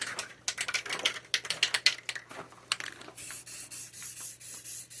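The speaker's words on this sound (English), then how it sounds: "Test spray our orange onto the can." Short hissing bursts of an orange spray paint can, a few quick spritzes followed by a longer steady spray, with scattered clicks and rustling nearby.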